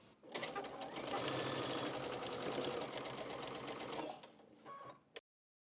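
A sewing machine runs steadily for about four seconds while stitching crazy-patchwork quilt fabric, then a few short bursts and a clunk as it stops.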